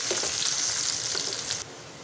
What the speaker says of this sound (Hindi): इसको डालते ही हम फौरन डाल देंगे प्याज। फिर हम इसे अच्छे से चला लेंगे।